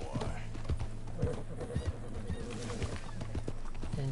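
Horse hooves clip-clopping at a walk in a game with dinosaur-bone locations, a steady run of clacking steps with a low hum underneath and a brief whinny-like sound in between.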